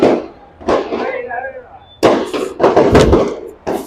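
Firecrackers going off nearby in Puri, with sharp irregular bangs and cracks separated by short gaps, while a person talks between the bursts.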